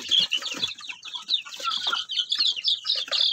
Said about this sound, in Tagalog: Yan yung sisiyo na black Australorp.